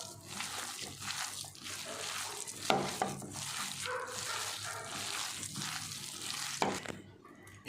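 A chicken mixture with green chilli sauce and a little soy sauce being mixed by hand in a bowl: continuous wet squelching and slapping at close range, with a few sharper knocks, fading out at the end.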